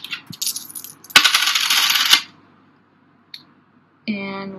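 Coins drop and clatter onto a hard surface during a tabletop game of dice and coins: a loud, bright metallic jangle lasting about a second, then a single faint clink and a later ringing ping.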